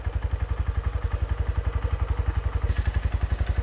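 A used motorcycle engine idles steadily up close, a loud, even, rapid thumping pulse with mechanical clatter, picking up slightly in pace near the end.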